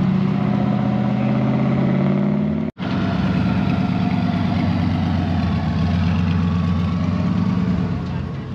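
A Divco truck engine rumbles as it drives out at a drag car event at a drive-in, a steady loud low drone with a brief dropout, close by, with voices talking over it.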